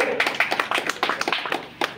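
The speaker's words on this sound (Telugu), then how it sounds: "క్లాప్స్ కట్టాలన్నా, క్లాప్స్ కట్టాలి." An audience at a village prize-giving ceremony in Akkal Reddy Palli claps in a short burst, with scattered, uneven hand claps close by and no voices over them.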